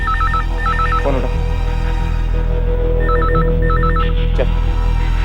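An electronic telephone ring trills in short repeated bursts, pausing between sets, over a steady background hum with a few clicks.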